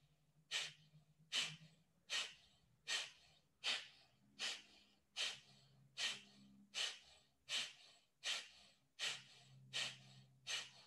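Forceful yoga breathing with about a dozen sharp exhales through the nose, each a short, even, breathy burst at a steady rhythm, close up and alone.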